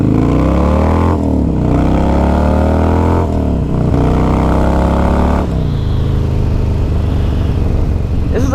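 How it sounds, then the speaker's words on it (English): A 1999 Harley-Davidson Dyna motorcycle engine running loud and close, revving up and down in a few swells before dropping back to a steady rumble. "This is a 99 Dyna. This bike runs so good."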